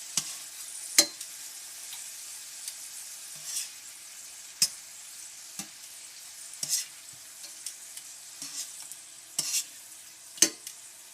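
Pieces of liver frying in a pan while being turned over, a steady soft sizzle broken by scattered sharp clicks and scrapes of the utensil against the pan, fairly close and with no talking.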